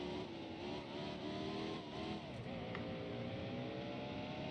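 A race car engine in a racing video game drones and revs continuously at low volume, the pitch wavering as the throttle is feathered out of a turn, with no talk over it.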